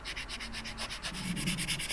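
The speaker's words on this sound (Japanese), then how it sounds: "まあまた地道に削っております" Body filler putty on a dent in a Daihatsu Copen's bodywork is sanded by hand in steady, rhythmic back-and-forth rasping strokes, close and fairly quiet, with no one speaking.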